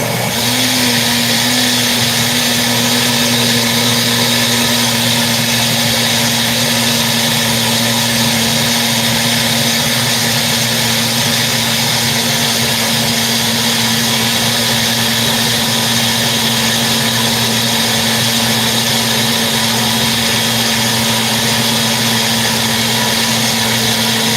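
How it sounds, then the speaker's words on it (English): Raw food smoothie whirring in a blender, a loud, unbroken motor drone with a steady high whine that runs the whole stretch without pause, nobody speaking. "I'm going to go ahead and blend this one and get my last little mixeroo"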